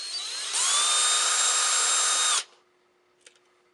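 A small power drill with a 1/16-inch bit bores a hole through a plastic bottle cap still attached to the bottle, a close high-pitched whine lasting about two seconds before winding down, followed by a faint click.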